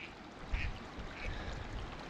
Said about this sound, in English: Oh, there's ducks.